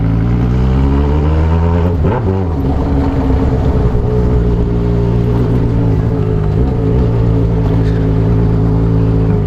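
A loud, steady motorcycle engine, a Yamaha XJ6 with a strange noise fault, drones close by with a rough, throbbing hum and a couple of brief pitch swells, no voices.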